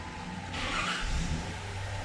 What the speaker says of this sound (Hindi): गाड़ी स्टार्ट है, मीटर में कोई लाइट नहीं आ रही